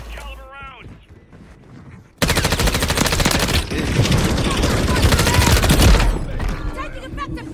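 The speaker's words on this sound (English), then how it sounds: "Taking effective fire." Sustained automatic gunfire in Call of Duty Warzone on Rebirth Island, loud, dense rapid bursts running for several seconds after a quieter stretch where a voice speaks over game sounds.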